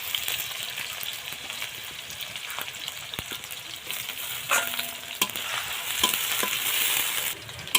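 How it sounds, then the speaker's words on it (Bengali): Chopped onion, chili and garlic frying in oil in a pan with cinnamon and a bay leaf, a steady close sizzle with scattered stirring scrapes and clicks throughout, no voices. "এবার একটু হালকা করে ভেজে নেব।"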